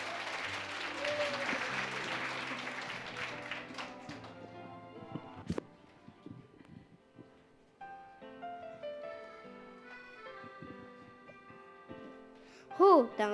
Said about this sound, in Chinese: 我们就拍手欢迎他们的演出